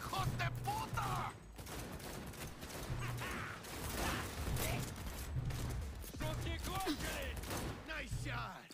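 Gunfire in a video game, dense bursts of rapid shots and mechanical clatter layered with game effects, loud and continuous, with voices talking underneath.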